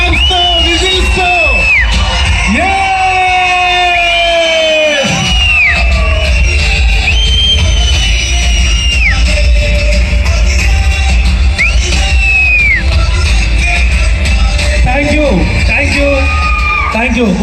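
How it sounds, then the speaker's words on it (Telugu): A stage-event audience in Guntur at the Utkarsh Bharath Mahotsav claps, cheers and whistles loudly to welcome a guest, with shrill whistles sliding over a dense, continuous roar of crowd noise. "క్లాప్స్ కనిపించాలి, విజిల్స్, జోష్, సౌండ్ తో, క్లాప్స్ తో, విజిల్స్ తో"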